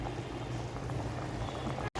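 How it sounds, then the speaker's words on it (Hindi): Water coming to a boil in a covered pot on the stove while jaggery rice is made, a steady close bubbling and hissing that runs unbroken before a brief dropout near the end. "पानी बॉयल होना शुरू हो गया है।"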